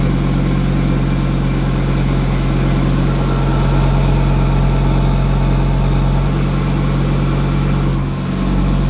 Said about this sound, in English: So that's the idle in performance mode